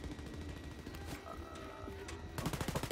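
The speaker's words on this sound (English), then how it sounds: "You're shooting at your own teammate." Gunfire in the video game Wolfenstein Youngblood: a dense stretch of shooting and combat effects that swells into a rapid automatic burst near the end, with no voices.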